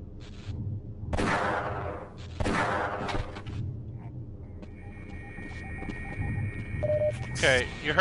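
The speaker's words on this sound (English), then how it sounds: "you heard all that gunfire" Two bursts of gunfire ring out in Half-Life: Blue Shift, a louder volley early on and a second soon after, amid game ambience with electronic tones and beeps, while a voice talks over much of it.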